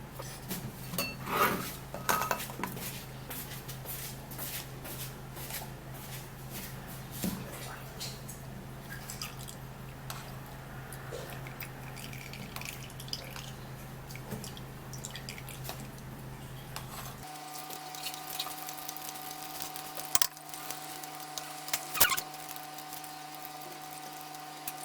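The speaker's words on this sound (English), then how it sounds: "then we would have to sieve it out." Blended sweet melon pulp pushed through a sieve gives soft wet squishes and drips with light clinks of utensils over a steady low hum, ending with a few sharper taps.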